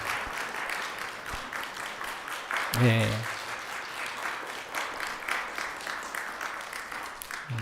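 A church congregation at a Sunday service applauds to welcome a visiting elder, steady clapping from many hands under a few spoken words.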